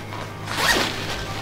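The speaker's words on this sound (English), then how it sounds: "Zipper here to access inside of the hood" The zipper on the hood of a Mystery Ranch Treehouse backpack is pulled open in one quick, close rasping stroke, with no talking.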